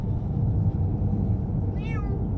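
A restless cat lets out a single drawn-out complaining meow over a low rumbling background, apparently inside a moving vehicle, with no talking.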